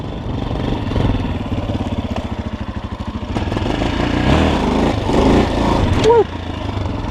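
Forte CBA 250 Chinese enduro motorcycle engine running close by with a pulsing, uneven throb near a swamp, steady and fairly loud throughout while a rider talks over it.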